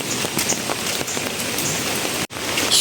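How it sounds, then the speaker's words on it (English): Steady rain falling all day makes a dense, even hiss of drops on surfaces close by, with a few louder patters and a brief dip near the end. "So it's been raining since morning and the rain hasn't stopped yet"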